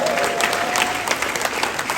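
Wedding congregation clapping after the vows at a ceremony at BEM Canada Hill, a dense, steady patter of many hands with faint background voices.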